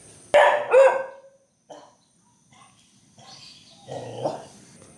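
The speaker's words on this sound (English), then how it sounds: "anywhere you do walk, there's loads of stray dogs" A stray dog gives a couple of sharp barks up front, then quieter yips and scattered sounds follow against a mostly quiet background.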